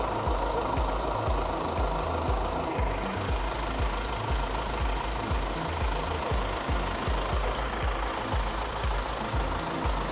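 A tractor engine rumbles steadily close by while lifting a Lemken EurOpal 7 plough, a continuous deep idling drone with a faint knocking pulse and a slight shift in tone partway through.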